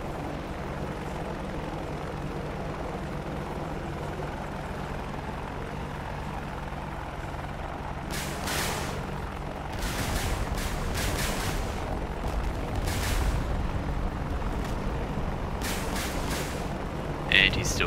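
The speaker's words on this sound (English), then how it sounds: "I'm coming in with rockets as well." An aircraft making a rocket attack in Digital Combat Simulator, a steady rotor-like engine drone underneath several sharp bursts of rocket fire and explosions in the second half, fairly quiet overall.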